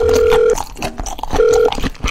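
Telephone dial tone heard while calling a friend: two steady, loud tones, each about half a second, separated by a pause, with some rustling and background noise in between.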